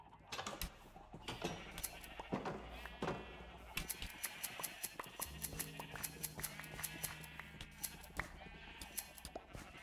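Sheep bleat inside a sheep cage in Minecraft, with several layered blocky bleats over steady mechanical clicking and ticking from game machinery, fairly quiet and continuous.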